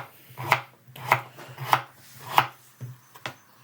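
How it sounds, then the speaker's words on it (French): Knife chopping two carrots on a board, a series of about six crisp, evenly spaced cuts at close range, with no talk over them. "nous allons couper nos 2 carottes"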